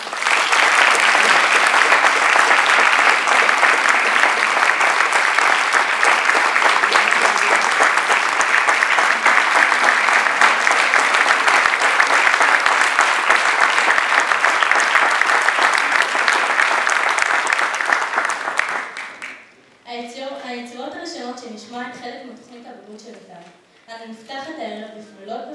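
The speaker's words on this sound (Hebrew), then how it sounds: "קבלו במחיאות כפיים" Audience applause at an accordion recital, loud, dense and sustained for about nineteen seconds before it stops abruptly, followed by quieter accordion-like tones with no talking.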